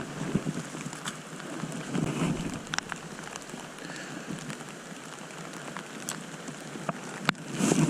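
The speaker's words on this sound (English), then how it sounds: "so I really don't give two craps how heavy this rain comes down" Heavy rain falling outdoors while panfishing, a continuous close patter and hiss of drops striking the surface, with gusts of wind and occasional sharp taps.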